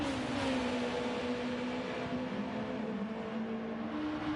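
GT1 race cars in a wet racing video game round the final corner at Autopolis, a steady, close engine drone holding a fairly constant pitch with a continuous hiss of spray underneath.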